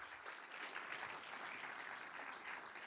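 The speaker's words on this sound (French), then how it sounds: "Je crois qu'on peut aussi toutes et tous l'applaudir" An audience claps steadily for a few seconds at a festival closing ceremony, a dense even patter of many hands without a break.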